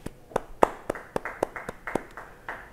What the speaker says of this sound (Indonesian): Para kekasih, beri tepuk tangan bagi Tuhan.